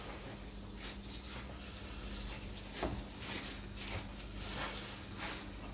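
Tap water runs steadily into a sink as greens are set to soak before rinsing and boiling, a continuous soft hiss with a few splashy surges, fairly quiet and unbroken.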